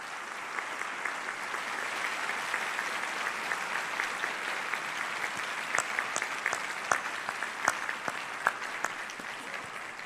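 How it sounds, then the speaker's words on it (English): Sustained applause from a graduation audience at a Cornell Law School convocation, a dense steady wash of many hands clapping throughout with a few louder individual claps standing out. "take a moment to thank your friends and family with a round of applause"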